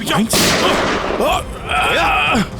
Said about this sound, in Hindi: माय गॉड, गोली चला रहा।